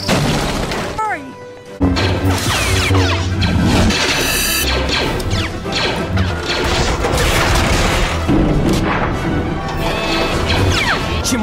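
Bomb blasts and crashing impacts in a Star Wars video game, loud and dense, layered with battle effects, music and shouted dialogue throughout.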